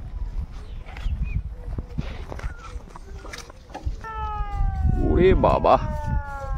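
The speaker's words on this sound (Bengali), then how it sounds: "জাহাজের সাইরেন বাজিয়ে বেরিয়ে যাচ্ছে অ্যাঙ্কার তুলে।" A ship sounds its siren as it raises anchor and leaves on a Sundarban river: a long, steady horn tone enters midway and holds to the end, under voices and outdoor noise.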